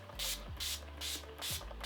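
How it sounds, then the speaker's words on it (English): Urban Decay All Nighter makeup setting spray gets misted in four quick, close bursts, each a short airy hiss separated by brief pauses, with faint handling sounds between. "I am going to take my Urban Decay All Nighter setting spray and use that because this, once you spray this, like your makeup is not budging"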